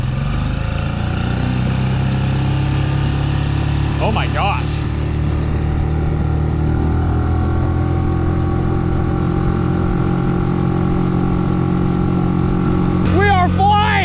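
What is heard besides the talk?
fast outboard motor on plastic jon boat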